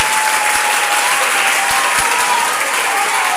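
A school audience applauds the 9th grade team at a contest grand final, a dense, steady wash of clapping from many hands that holds loud and even throughout, with no voices over it.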